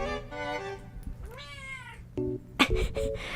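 A pet cat meows insistently for its dinner indoors, several close, drawn-out meows in quick succession with no talk over them.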